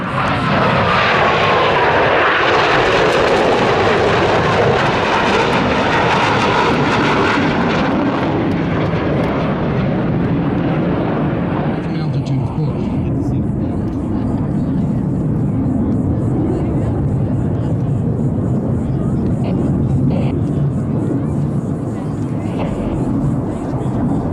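Four Blue Angels jets in tight formation sweep over Pensacola Naval Air Station, a loud broad engine roar that swells to a peak early and then settles into a sustained rumbling drone as the planes pass and recede.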